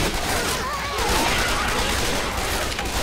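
Auto shotgun fire in the zombie shooter Left 4 Dead 2 sits inside a dense, continuous wash of game gunfire and noise, loud and unbroken, with no distinct single shots standing out.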